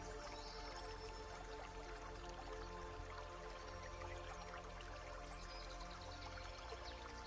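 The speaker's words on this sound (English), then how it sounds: "In the distance, you hear a gentle stream." A gentle stream bubbling over smooth stones in a forest clearing, a faint steady trickle and drip running quietly and evenly throughout.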